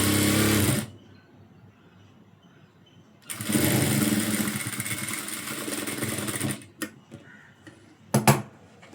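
A sewing machine runs in short bursts as a blouse is stitched straight, its motor whirring with a rapid needle clatter, stopping and restarting in separate runs with brief gaps and a couple of short final taps.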